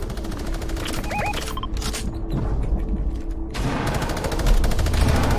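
Rapid bursts of Fortnite gunfire rattle continuously with dense repeated shots, mechanical clicks and metallic reload noises, loud and close throughout.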